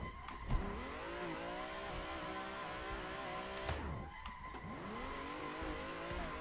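Cars in the Assetto Corsa racing game drive and turn while drifting, with engine notes rising and falling through gear changes and tire squeal through the corners, fairly quiet throughout.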